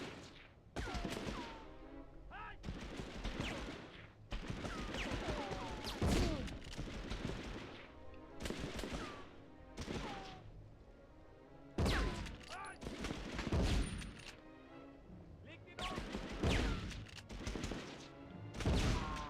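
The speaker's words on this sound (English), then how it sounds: "I'm hearing a lot of shots." Battle gunfire in the Medal of Honor video game, repeated rifle and machine-gun bursts and thuds in clusters, with someone talking over the shooting at times.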